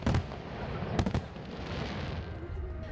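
Fireworks at the closing ceremony of the 2014 Incheon Asian Games, a distant rumble of bursts with a couple of sharper cracks near the start and middle over a steady wash of crowd and outdoor noise.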